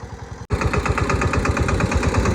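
A tractor engine chugs loudly and steadily close by in a chickpea field, its rhythmic low throb starting abruptly after a short gap at the beginning.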